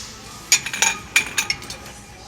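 Ceramic coffee mugs and dishes clink together on a shop shelf, a few bright knocks spaced out over two seconds, close and clear with a quiet background.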